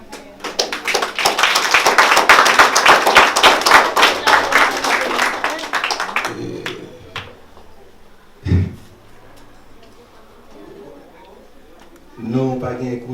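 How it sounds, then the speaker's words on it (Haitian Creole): Congregation clapping and applauding at a Haitian wedding ceremony in Chile, a dense burst of many hands for about six seconds, then a quieter room with scattered taps and a thump. "Applaudissez les Seigneurs."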